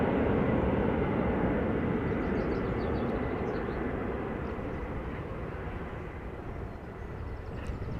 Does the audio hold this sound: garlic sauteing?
no